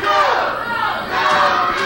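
Wrestling crowd in an arena cheering and chanting for two young wrestlers, a dense, loud roar of many voices swelling and dipping.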